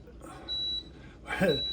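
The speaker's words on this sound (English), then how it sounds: "the alarm just went off that the bread is done" A high, steady electronic beep sounds twice over a faint background hum, with a voice speaking briefly between: a bread maker's finished alarm.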